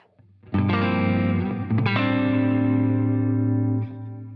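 A sustained electric guitar chord rings out with mild overdrive from a Bluesbreaker low-gain pedal, thick and slightly gritty, struck again partway through and held before cutting off.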